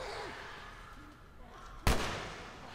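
A single sharp gunshot rings out in The Last of Us video game, a sudden loud crack near the end that decays quickly after a stretch of quiet ambience, with no talking.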